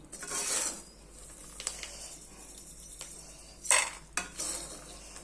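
Roasted salted peanuts scooped out of a hot pan a little at a time, giving dry scraping and rattling clinks with soft sizzling between scoops, close and fairly quiet.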